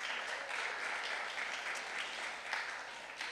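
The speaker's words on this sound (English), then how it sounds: "Give yourselves a round of applause." An audience at a church gathering gives a round of applause, a steady wash of many hands clapping at moderate, fairly distant volume for a few seconds without talk.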